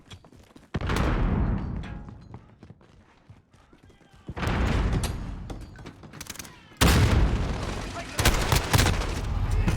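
Call of Duty Warzone match with loud bursts of rapid gunfire and heavy blasts in uneven waves, including a grenade, punctuated by quieter gaps, with in-game voices partly mixed in.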